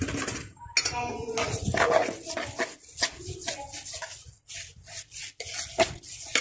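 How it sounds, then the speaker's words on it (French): Quinoa being mixed with salt, cumin and oil using a fork, in a bowl or pot for a Tunisian-style vegetarian couscous: irregular close clinks and scrapes of metal against the dish, with short pauses between strokes. "Je vais bien mélanger à l'aide d'une fourchette"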